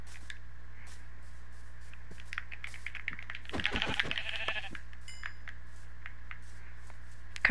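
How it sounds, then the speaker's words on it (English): Blocky bleats from a Minecraft sheep rise briefly in the middle, a short cluster of cries over quiet game ambience with a few faint clicks scattered around. "There's a baby sheep."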